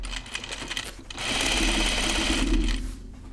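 Sewing machine stitching a jacket seam in the seam allowance, a loud steady whir of close stitching after a few short starts.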